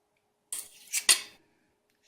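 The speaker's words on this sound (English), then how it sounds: "we're going to take our knife and we will just shave off" A knife shaves thin layers off polymer clay for a pendant, giving a few short scraping strokes, close and fairly soft, with quiet gaps between them.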